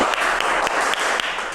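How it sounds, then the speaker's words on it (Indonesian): A classroom group breaks into steady, dense clapping that fills the whole moment, with a few sharper claps standing out from the crowd. "tepuk tangan buat teman-teman"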